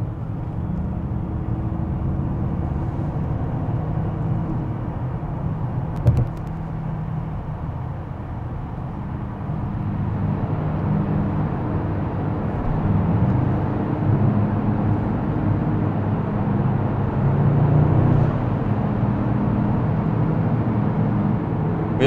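Steady, loud low rumble from inside a 2024 Mercedes-AMG GT63 S E Performance driving through an enclosed tunnel at night behind another car, with droning engine and road noise echoing continuously and one brief knock midway.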